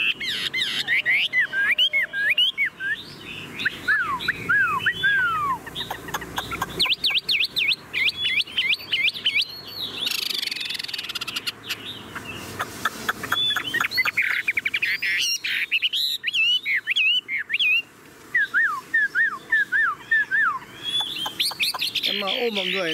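A tame Chinese hwamei songbird sings close and loud in rapid, varied bursts of whistled phrases and trills, pausing briefly between runs, with a voice occasionally talking underneath.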